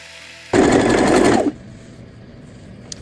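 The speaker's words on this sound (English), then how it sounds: "let me show you how I make a lettuce hem with a zigzag stitch" A sewing machine runs a zigzag stitch to make a lettuce hem on stretched T-shirt fabric, a loud, steady mechanical whir for about a second before stopping abruptly, with quiet room tone afterward.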